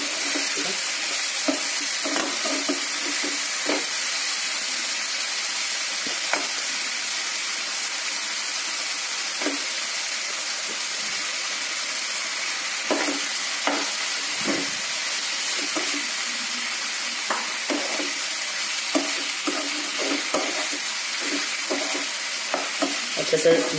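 Vegetables and tomato cooking on a medium flame while being stirred, a steady soft sizzle with frequent spoon scrapes and taps against the pan, close and continuous throughout.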